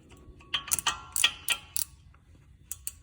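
Fastener being tightened by hand with a ratcheting tool during a front brake pad and rotor job on a 2013 Chevy Cruze, heard as a series of close, sharp metallic clicks and ticks in uneven bursts, with no talking.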